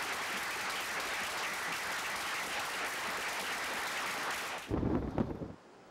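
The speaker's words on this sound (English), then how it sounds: "Let's give a round of applause to everybody." Dense, steady applause from a meeting audience fills most of the stretch at an even level, then breaks off abruptly into a brief burst of low rumbling noise before quiet.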